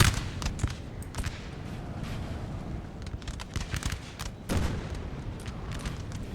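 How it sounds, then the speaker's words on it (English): Ragged musket volleys crackle across a Napoleonic battlefield in Napoleon Total War, a dense fusillade of overlapping shots with a louder burst near the middle, set against continuous rumbling battle noise and no voices. "Give them a volley for France."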